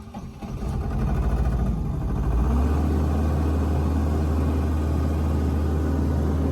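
A John Deere 8400 tractor engine runs steadily after a collapsed-hose repair, a loud, close, continuous low rumble that settles into an even idle after a brief rise, with no talking.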